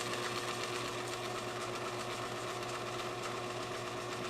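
A drill spins a homemade drill-powered grease gun, giving a steady, continuous motor whine with a constant tonal hum that holds evenly throughout, close and fairly loud with no talking.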